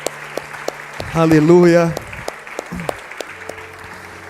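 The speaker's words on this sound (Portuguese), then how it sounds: "Vamos aplaudir Jesus pela vida dessas pessoas" A church congregation breaks into a short burst of applause, rising and fading within about a second, while a preacher's voice speaks over the room.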